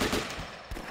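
AK-47 gunfire in a video game, a rapid stream of close automatic shots packed into a single second of dense, loud noise.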